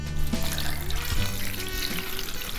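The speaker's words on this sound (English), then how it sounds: "we're just gonna add enough water to completely cover our bones" Filtered water pours into a pot of chicken bones for bone broth, making a steady, close, full splashing gush that holds at the same level throughout with no talk.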